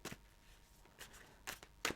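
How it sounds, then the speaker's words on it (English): A deck of animal spirit oracle cards is shuffled by hand close up, several quick papery riffling bursts in a short uneven rhythm with no voices. "I am going to shuffle the animal spirit cards to get an energy of the person"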